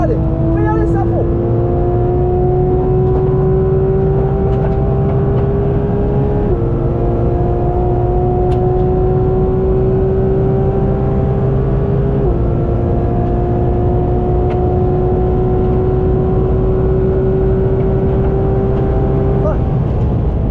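A race car on the Dijon-Prenois circuit pulls hard at full throttle, its loud, steady engine drone climbing in pitch through each gear with two clear shift drops, heard from onboard with a voice talking over it.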